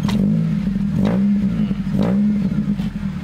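A modified Toyota Great Corolla engine runs at a steady idle, its pitch briefly rising and falling a few times as it's revved lightly; loud and close.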